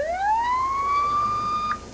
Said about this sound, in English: And then one by one had each vehicle turn their siren on.